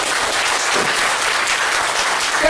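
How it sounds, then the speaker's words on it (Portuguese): An audience at a Saturday spiritual meeting applauds, a steady, loud, dense patter of many hands clapping together with no voices over it, holding evenly for a couple of seconds. "Uma salva de palmas para Deus, cara."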